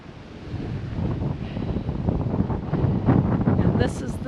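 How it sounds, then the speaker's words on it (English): Strong wind buffets and roars across the microphone in a constant rumbling gust, loud and close throughout, near Whittier, Alaska. "And it is severely windy here."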